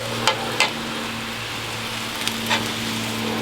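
Egg frying in a hot pan while cooking pad see ew chicken, a steady close sizzle with a low hum beneath and a few brief scraping stirs.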